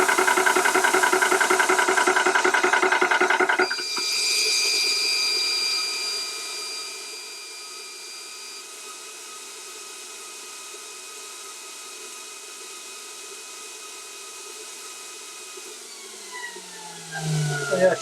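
Cheap eBay 300 bar PCP air compressor pumping with a fast rhythmic chugging that stops abruptly, leaving a steady whining hum that fades lower before a brief clatter near the end.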